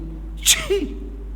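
A voice imitates a sneeze during prayer, giving one short sharp sneeze followed by a brief vocal trail, close and clear over a steady low hum.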